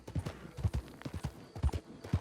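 Hooves of a weak, quickly tiring horse clip-clop in a steady walking rhythm in the video game Red Dead Online, a dozen or so soft, close thuds with no talk over them.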